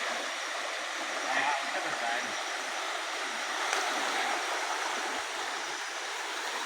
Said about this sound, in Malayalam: കായലങ്ങ് ഒഴുകി നീണ്ടു നിവർന്ന് കിടക്കുകയാണ് കേട്ടാ. ഇതങ്ങ് പോയേം കൊണ്ടേയിരിക്കുകയാണ്.